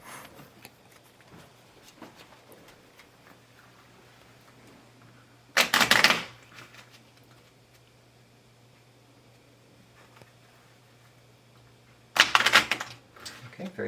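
Two separate bursts of a regular deck of playing cards being shuffled by hand, each a dense riffling rattle lasting under a second, close and crisp against a quiet room.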